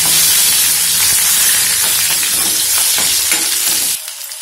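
Chana dal, peanuts and dried red chillies sizzle and splutter in hot oil as a tempering for prasadam chana sundal, a loud dense crackle throughout with small pops, dropping away sharply near the end.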